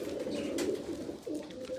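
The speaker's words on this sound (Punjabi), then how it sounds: "ਧੁੱਪ ਸੇਕਣ ਡੇ ਕੂਤਰ" Pigeons sunning themselves coo softly nearby, a low rolling murmur that carries through the short moment with a brief dip midway.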